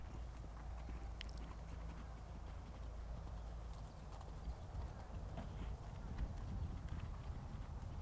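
Hooves clatter rhythmically as a young horse gallops alone on a riding track, steady and moderately distant, with a faint breezy background.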